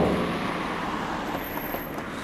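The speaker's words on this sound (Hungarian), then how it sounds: "a jól ismert Wartburg kongó hangját" A 1989 Wartburg 1.3 car engine runs with a steady, hollow droning rumble, close and continuous, with no talking.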